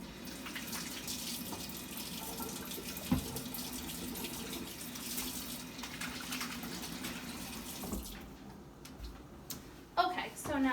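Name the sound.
washing hands under running tap water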